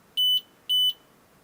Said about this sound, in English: the machine will go beep beep a couple times